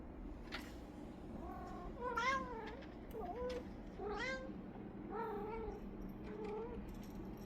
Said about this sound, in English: Here's a video of my cat getting embarrassed.